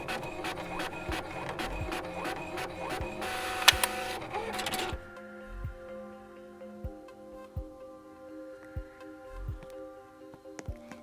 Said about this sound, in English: you wait for the printer to finish